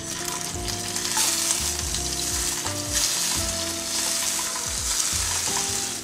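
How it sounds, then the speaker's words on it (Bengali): Fish marinated with salt and turmeric fries in hot oil, a loud, dense, continuous sizzle close by, broken by stirring and scraping movements. "তেল গরম হয়ে গেলে দিয়ে দিব লবণ হলুদ দিয়ে মাখানো মাছ।"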